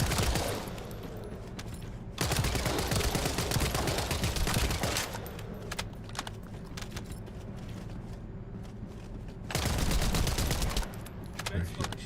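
Rapid bursts of gunfire from the shooter game Descendant, loud clustered volleys near the start, in the middle and again at the end, over a steady bed of game noise and music, with a voice talking briefly.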